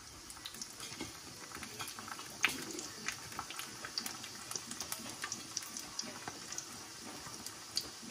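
Sweet corn boils in a pot of water on a home stove, a soft continuous bubbling with scattered small pops and splutters, fairly quiet and steady throughout.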